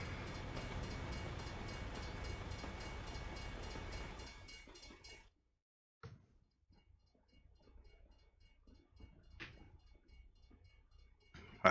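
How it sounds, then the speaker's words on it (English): Freight train passing in American Truck Simulator, a steady rolling rumble that fades out abruptly midway, followed by near silence with a few faint clicks and engine noise. "Alright, let's wait for the train."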